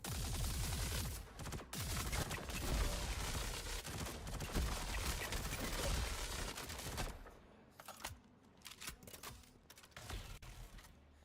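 Rapid gunfire from a Star Citizen game session, dense bursts of shots crackling together for several seconds before thinning into scattered single pops and mechanical clicks, moderately quiet and without talk.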